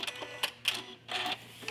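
A sewing machine tacking a quilt, running short bursts of stitches forward and back, a close, fairly soft mechanical whirr broken into brief stops and restarts.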